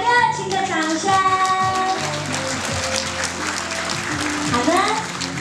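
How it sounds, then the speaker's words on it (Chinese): Warm applause at a wedding reception for the newlyweds, a dense steady clapping from a crowd of guests that lasts throughout, with voices and an announcer heard over it. "再一次给我们德纲还有怡轩一个热情的掌声"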